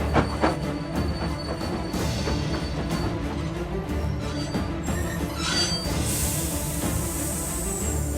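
A train rolls toward the only bridge into New York City, a steady, loud rumble with rhythmic clanking and rattling that runs unbroken throughout, with no voices.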